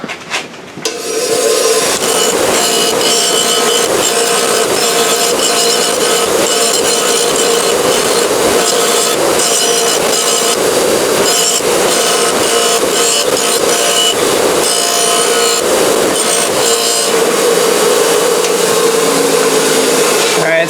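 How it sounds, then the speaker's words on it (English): Wire wheel grinding and cleaning a mower engine crankshaft, a continuous loud abrasive whine and scraping hiss held steadily for the whole stretch, close up and without talking. "So, probably take it to the wire wheel,"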